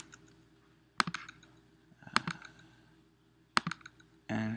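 A computer keyboard is tapped in three short bursts of quick clicks, quiet and close, with near silence between them and a brief rustle at the end.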